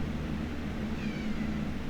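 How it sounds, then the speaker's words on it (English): Kittens mew in the video game Critter Cove, a short high thin cry rising over a steady, busy bed of game background noise. "I have kittens everywhere mewing"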